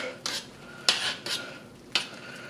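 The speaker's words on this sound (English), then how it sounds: "turn off the heat. Give one last stir." A spoon stirring boiled jalapeño pickling brine in a pot, three or four quick scraping, clinking strokes against the metal, close and fairly quiet with no talk.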